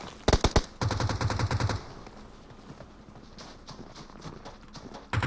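Rapid AK rifle fire in a battle-royale style video game, two quick strings of loud automatic shots up front, then fainter scattered bursts further off.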